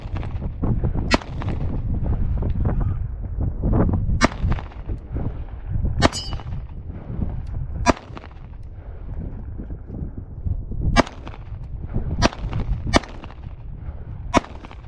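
Pistol shots from a compact 13-round handgun firing MagTech 115 grain ammunition at a range, roughly ten sharp, spaced cracks over a steady background rumble.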